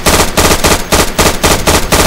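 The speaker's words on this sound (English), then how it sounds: "Suppressing fire? That's really loud." Sustained machine gun suppressing fire in the World War II shooter Day of Infamy, loud rapid bursts repeating in an even rhythm about every quarter second, close and alone.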